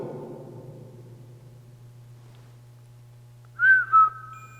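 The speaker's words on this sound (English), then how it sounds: "Can you whistle?" Two short whistled notes near the end, clear and close, following a fading low rumble and steady hum, inside a mine.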